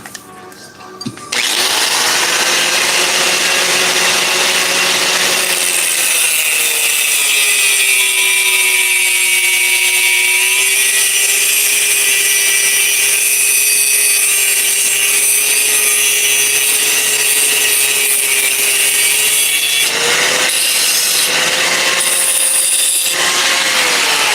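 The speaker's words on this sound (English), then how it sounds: "I'm gonna use the grinder." A grinder runs in a workshop, a loud sustained whine that holds steady for about twenty seconds with a slight pitch dip partway, starting abruptly after a brief pause and ending with a few short bursts.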